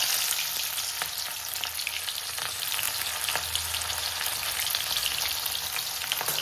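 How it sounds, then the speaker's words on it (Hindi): Onions frying in hot oil with ajwain, a steady dense sizzle and crackle throughout, close and continuous with no talking. "तो ये हो गया तेल गरम, अब इसमें मैं डाल दूँ अजवाइन। अब इसमें जाएगी प्याज"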